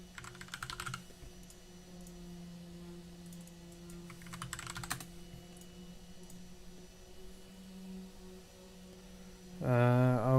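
Fast typing on a computer keyboard comes in two rapid bursts of keystrokes over a steady low hum, then a brief louder sound right at the end.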